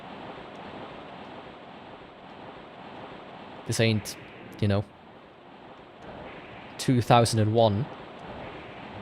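Steady broadband rush of flowing water in the 1995 video game King's Field II, a constant loud wash filling the whole stretch while someone talks briefly over it twice.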